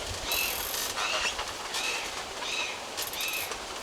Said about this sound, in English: you can just hear the creaking in all of these trees